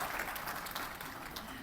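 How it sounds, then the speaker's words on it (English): Audience applause at a formal health-sector event in a hotel hall in Islamabad, a steady wash of clapping that fills the brief moment with an even, sustained level. "Ladies and gentlemen, big round of applause."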